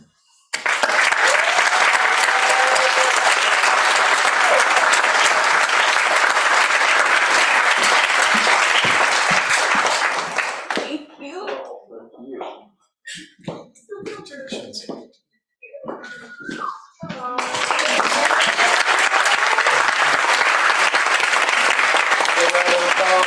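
Sustained loud applause from a crowd at a low-residency MFA graduation ceremony for the class of 2023, breaking off midway into a few scattered claps and murmurs before swelling back to full clapping.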